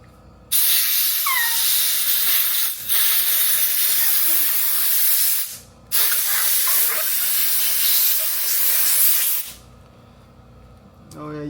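Compressed air blown in bursts under a motorbike handlebar grip to loosen and remove it, three loud sharp hissing blasts separated by brief pauses, up close.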